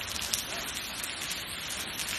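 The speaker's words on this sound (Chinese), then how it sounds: "现在下的这个大暴雨还没有停" Heavy rainstorm pouring down outdoors near a fishing tackle shop, a steady dense hiss of rain on surfaces that continues evenly throughout without any break.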